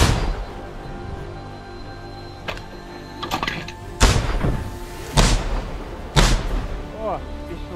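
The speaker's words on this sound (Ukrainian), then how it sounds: "Постріл!" Artillery piece fired by a Ukrainian mechanized battalion fire-support platoon near Kharkiv, giving several heavy booms and thuds a second or so apart, loud and close, with faint voices in the background.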